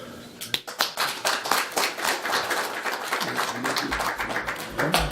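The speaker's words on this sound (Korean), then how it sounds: "박수 해야 돼" A small group claps at a gathering, with sharp, uneven individual hand claps close by and a thinner patter of others behind them, plus a faint voice near the end.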